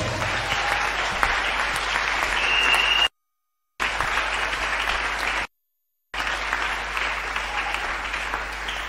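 A church congregation at a Sunday worship service applauds in sustained, dense clapping. It is heard in three bursts separated by brief silent gaps.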